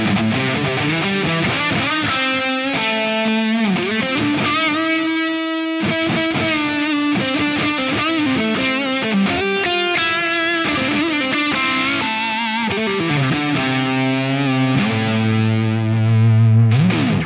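Electric guitar runs through a Mooer delay pedal set to its analog mode, a distorted, chorus-tinged tone with sustained chords and repeating echoes playing continuously, with no talking.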